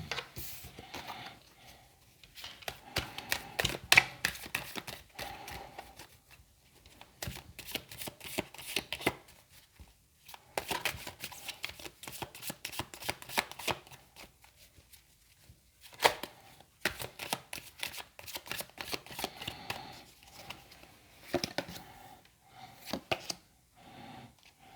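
Tarot cards being shuffled for a card reading: repeated close riffling and slapping bursts in several runs separated by brief pauses, with no talking.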